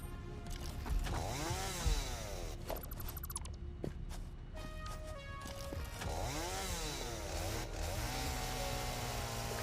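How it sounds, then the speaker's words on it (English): A chainsaw in the video game Satisfactory buzzes loudly and continuously, its engine pitch swooping up and down in repeated revs with brief sharp clicks mixed in, heard alone. "Do I have my chainsaw? I hope I do."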